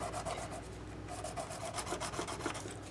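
Steady rubbing and rasping as corroded metal hardware on a Matt Bellamy signature Cort Manson guitar is polished, a continuous close scrubbing with rhythmic strokes and no talk.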